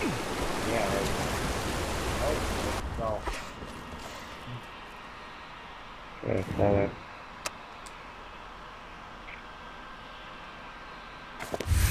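Steady rushing water from a waterfall in the game Lara Croft and the Temple of Osiris, loud and continuous for the first few seconds before fading to a quieter background wash, with voices talking over it.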